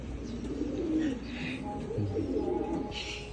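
Pigeons coo softly in low, rolling calls, with a few faint chirps from other birds nearby.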